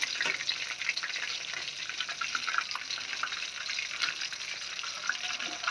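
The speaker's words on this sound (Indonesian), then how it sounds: "Ini goreng sosis" Small sausages fry in hot oil in a pan, giving a soft, continuous crackling sizzle with light spatters throughout and no voices.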